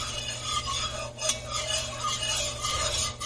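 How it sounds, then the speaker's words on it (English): Butter and flour roux stirred in a pan, a steady scraping swirl with faint clinks of the utensil against the metal, close and continuous over a low background hum. "use 4 tablespoons of flour, and just stir it around again until you get that"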